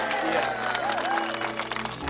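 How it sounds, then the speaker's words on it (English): A roadshow audience applauds in a steady, moderately loud ripple of clapping with a few faint cheers, while a whistle-like tone glides above and the clapping thins toward the end. "let's give him another round of applause."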